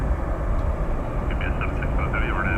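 A Lufthansa Airbus A340-300 jet at DFW Airport after dark gives a steady, loud broadband engine roar throughout, with a voice faintly underneath.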